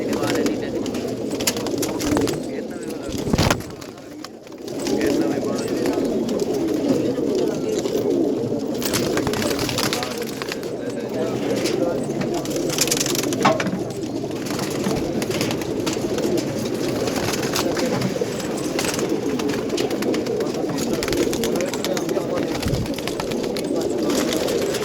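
Pigeons coo repeatedly in a loft in Multan, giving soft, continuous throaty calls close to the microphone, with scattered voices and handling noises in the background.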